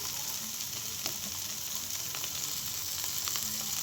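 Goat brain fry sautéing in a pan, a dense steady sizzle with occasional light stirring scrapes, close and fairly loud, no voices.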